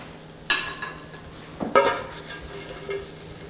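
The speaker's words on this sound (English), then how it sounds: "Start with my little saute of tasty potatoes here." Sautéed crispy potatoes are scraped and scooped from a hot pan onto a plate, with two sharp utensil scrapes against the pan over a soft background sizzle, close by and without talk.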